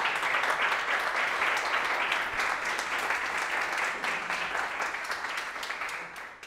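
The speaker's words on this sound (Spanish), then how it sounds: "Si queréis aplaudir" An audience at the JSDay Canarias 2017 JavaScript conference claps at the end of a talk on real-time browser games, a full, sustained round of applause that eases off slightly toward the close.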